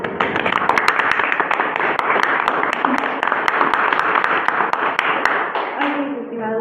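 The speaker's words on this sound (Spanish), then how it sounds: "Valeria Martínez Hernández, para quien pido un fuerte aplauso." A group applauds a guest law graduate on a law lecture podcast, with sharp individual claps cutting through a steady wash of clapping and crowd noise before it fades out.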